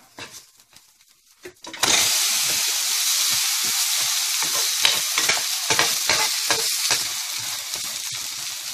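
Kari dosa flipped in a pan of sesame oil bursts into a loud, close sizzle after a few quiet seconds, then keeps hissing steadily with scraping and stirring sounds over it.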